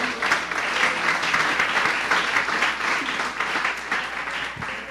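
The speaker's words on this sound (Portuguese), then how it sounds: "Uma salva de palmas ao Senhor." A church congregation applauds during a service, a steady wash of hand clapping with a few loud individual claps standing out, holding for about five seconds.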